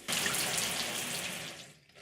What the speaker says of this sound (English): Can you turn the shower off, dear?